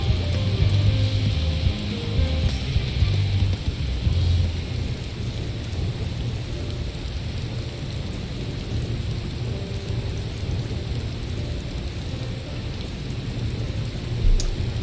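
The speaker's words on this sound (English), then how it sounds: "I like how it's raining in this environmental dome." Steady rain falls with rolling thunder inside an environmental dome in Final Fantasy XIV Endwalker, a continuous wash of rainfall under deep rumbles, louder at the start and holding at an even level throughout.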